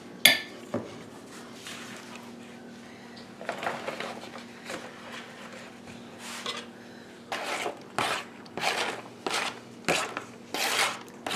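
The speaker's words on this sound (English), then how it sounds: "we're going to put the peppers and onions in there and let them soften up a little bit" Peppers and onions are tipped into a pan of olive oil for Cajun rice, giving irregular clattering and scraping knocks that grow busier and louder toward the end over a low steady hum.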